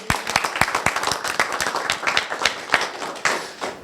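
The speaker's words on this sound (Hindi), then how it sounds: "तो इसके बच्चे के लिए आप तालियां भी बजा दीजिए साथ साथ।" A college audience applauds a student, a dense burst of many hands clapping in an uneven patter that carries on throughout.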